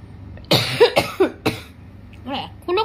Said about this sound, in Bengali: এখনো কাশি হয়